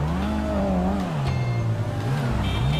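Mini John Cooper engine in GTA5 droning loudly and close, its pitch climbing and dipping as the car revs and shifts, continuous throughout.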